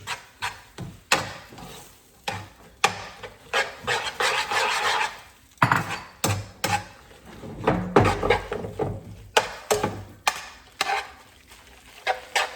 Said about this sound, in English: I'm stirring constantly to try to avoid scramblage